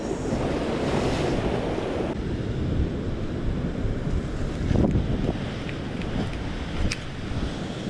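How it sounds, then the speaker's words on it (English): Ocean surf breaking and washing against a rocky shoreline at a shore-jigging spot, a continuous loud roar of waves with heavy wind buffeting the microphone and a few sharper splashes rising out of the wash. "look at this wave"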